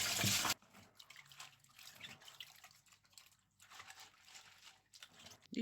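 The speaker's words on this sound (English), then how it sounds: "Pour some water and use a bowl and a sieve to collect the skin." Water poured through a sieve into a bowl to rinse bean skins, trickling and dripping continuously in a soft, close splashing stream after a brief loud burst at the start.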